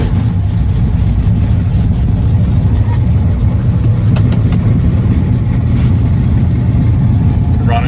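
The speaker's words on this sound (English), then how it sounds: "Start up our 67 Chevelle SS with 427." A 1967 Chevelle SS with a 427 V8 idles loudly and steadily close by, a deep, continuous rumble with no pauses throughout.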